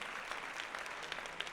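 Quiet, steady applause from a small group, a continuous patter of claps with no voices over it.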